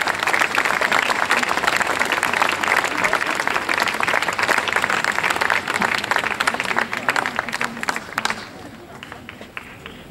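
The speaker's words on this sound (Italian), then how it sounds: "grande applauso." A concert crowd in Padova breaks into loud, dense applause with scattered voices, holding strong for several seconds and then dropping off abruptly near the end.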